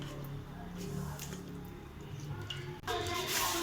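Washed pieces of fatty lamb meat are dropped into a pot of water, with soft wet squishes and handling noises followed by a louder splash and slosh.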